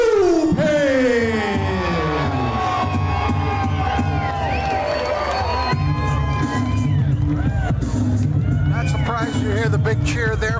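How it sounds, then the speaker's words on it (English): Boxing arena crowd roaring for local fighter Loui Lopez of South Central Los Angeles, a sustained loud cheer with whoops and shouts, a ring announcer's voice carrying over the start. "You hear the big cheer there for Loui Lopez"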